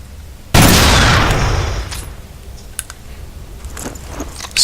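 A sniper rifle in the video game Black fires a single sharp, loud shot that decays over about a second, followed by faint clicks and clatter.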